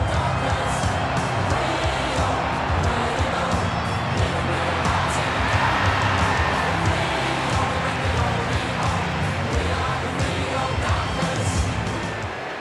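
A stadium crowd cheers and roars as Carlton AFL players run through banners onto the field, a loud, sustained wash of cheering and whoops filling the whole stretch, with some talk mixed in.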